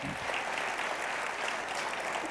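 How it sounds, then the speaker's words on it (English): Audience applause at a keynote with the mayor of Detroit, a steady wash of clapping from a large crowd, even and sustained throughout. "I think we need some applause, y'all."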